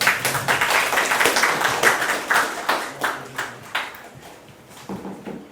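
Applause from an audience at an academic history conference in Pyeongtaek, a steady patter of many hands clapping that thins out and fades over several seconds.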